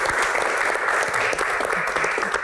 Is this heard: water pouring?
no